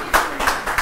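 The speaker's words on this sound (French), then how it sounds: "on peut applaudir quand même pour la grande famille, non?" Scattered clapping from a studio audience on a Cameroonian TV talk show: a few sharp, close bursts of hands striking in quick succession, with no talk.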